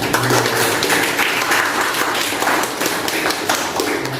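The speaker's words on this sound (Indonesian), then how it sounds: "Beri aplaus untuk Tori" Classroom applause for a student during a biology teaching performance test, a steady wash of clapping hands that holds at an even level from start to finish with no voices over it.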